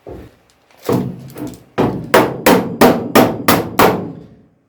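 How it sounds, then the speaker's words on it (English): A hammer strikes a Ford Escort MK1 steel body panel repeatedly, about eight or nine sharp, ringing blows in a steady rhythm, close and loud with no talking. "I probably shouldn't be using this hammer for this either because I'm wrecking the face in it"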